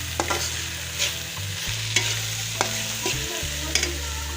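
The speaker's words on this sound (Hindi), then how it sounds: "प्याज हमारा फ्राई हो गया है।" Steady sizzling of onions frying in a pan, with occasional scrapes and clinks of a spoon stirring, close and continuous.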